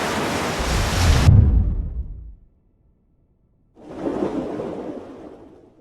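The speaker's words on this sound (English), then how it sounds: "let's listen to the sequence with just the fish movements and the rises" Sound effects of fish moving and rising at the surface, made of watery splashing whooshes: a dense burst that fades into a brief silence, then a second softer swishing splash.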